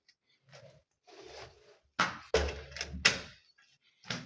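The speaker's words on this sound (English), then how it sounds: "I'm closing the doors." Household doors being closed, several thuds and scraping movements in a row at close range, with quiet gaps between them and no talking.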